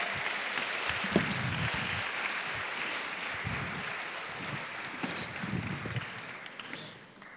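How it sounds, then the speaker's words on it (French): Audience at a mentoring awards evening applauding a school principal, sustained dense clapping from many hands across the room, with a few sharper claps and occasional shuffling, fading toward the end. "Et on peut l'applaudir, Laetitia Louba."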